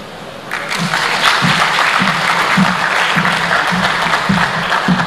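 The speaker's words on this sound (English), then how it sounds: "Another round of applause for him." Lecture audience at an Africa Day event applauds warmly. The loud, full clapping swells after a brief quieter start and holds steady throughout, with faint voices mixed underneath.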